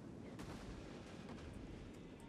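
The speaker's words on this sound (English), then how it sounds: "his scorpions are preparing to shoot. And they fire" Scorpion and ballista artillery fire in a Rome 2 Total War battle, giving a dense wash of distant battle noise with a few sharp launch thuds and clacks over a constant rumbling din.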